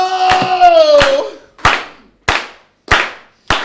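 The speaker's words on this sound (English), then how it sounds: "this is your chance to clap those hands." A brief tonal sound opens, then sharp hand claps ring out one at a time at a steady beat, crisp and close.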